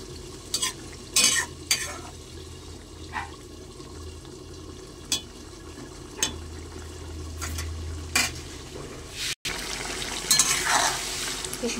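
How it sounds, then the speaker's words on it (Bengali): Tehari meat frying in a pot over a high gas flame sizzles steadily while a spoon stirs it in irregular scraping bursts, with a sharper clatter of utensil against pot near the end. "এবার আমি ভালো করে নেড়ে চেড়ে নেব।"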